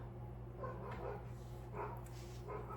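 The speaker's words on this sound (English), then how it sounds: "That is my dog barking at the neighbors in the background" A dog barks at neighbours somewhere in the background of a home, a few faint, muffled barks spaced apart over a steady low hum.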